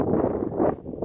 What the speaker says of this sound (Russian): Ветер меня, наверное, перебивает.